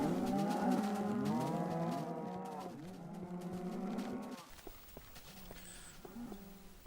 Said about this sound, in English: all the cows up there making all their noises annoying me